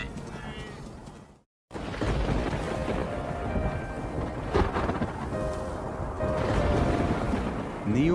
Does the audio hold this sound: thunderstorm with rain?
yes